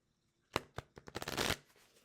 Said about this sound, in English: when I shuffle these cards